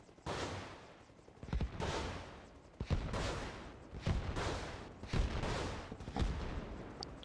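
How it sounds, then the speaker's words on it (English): Rapid bursts of explosive fire from an attack helicopter launching rockets in the video game Arma Reforger, a string of loud blasts and booms repeating every second or so over a steady engine-like roar. "I'm just going to auto hover here and basically rail rockets at it"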